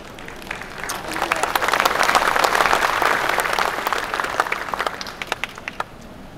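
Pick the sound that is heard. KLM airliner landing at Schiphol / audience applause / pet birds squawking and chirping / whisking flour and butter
audience applause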